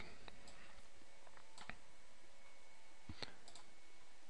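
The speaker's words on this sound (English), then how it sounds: "I'll click the submit button" A computer mouse gives several sharp clicks, a few scattered single clicks and a couple of closely spaced pairs, sounding close against a quiet background.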